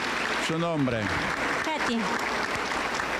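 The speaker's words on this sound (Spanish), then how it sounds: "Un aplauso para el Señor Jesús" Church congregation applauding for Jesus during a Pentecostal healing service, a dense steady wash of clapping running beneath a voice that speaks and half-sings over it.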